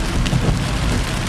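Heavy Florida thunderstorm with a loud, steady wash of rain and low rumbling thunder beneath it, dense and continuous with no speech.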